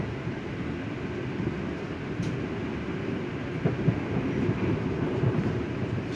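An Argo Sindoro passenger train runs at speed alongside a KRL commuter train, giving a steady, moderately loud rumble and rattle of wheels on rails that continues evenly throughout with no voices.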